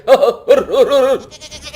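Goats bleating on a hillside pasture in a foggy mountain area, several loud wavering bleats in quick succession close by, with no talk.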